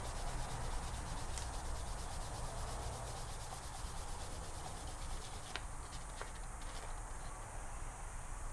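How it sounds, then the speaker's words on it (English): Light sanding of a black walnut wooden coffee mug spinning on a lathe, a steady close rubbing hiss that runs throughout with a few faint ticks near the end. "Just lightly sanding, trying to get any kind of bubble and imperfection out."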